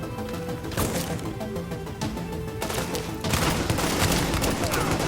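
Explosion in the shooter game The Division, a broad loud blast amid ongoing gunfire and combat noise, with a second heavier burst near the end.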